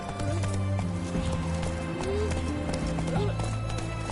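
Horse hooves clip-clop at a steady gallop in The Witcher 3, loud and continuous throughout, with a brief whinny and game music tones layered underneath.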